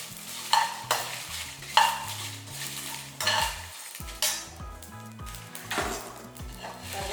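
Dried Kashmiri red chillies are dry-roasted in a pan, a utensil scraping and stirring them in repeated close strokes with clinks against the metal and a light sizzle underneath.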